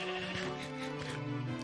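A sheep bleats in the Wii U edition of Minecraft, a short, wavering nasal call heard up close over a steady tonal background.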